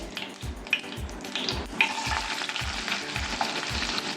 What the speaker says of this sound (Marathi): आता इथे कांदा आपला भाजून झालेला आहे